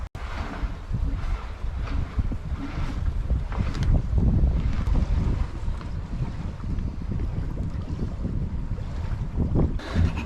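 Wind buffeting a sailboat under sail on open sea, gusting roughly from behind, with low rumbling rushes and water wash rising and falling, brief stronger puffs around the middle and near the end.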